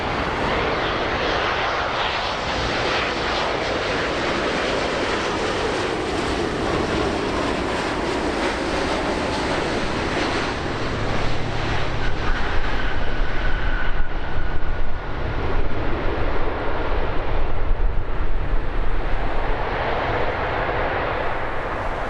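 KLM heavy airliner landing at Los Angeles airport, a loud, sustained broadband jet engine roar that swells slightly midway, close and continuous with no talk.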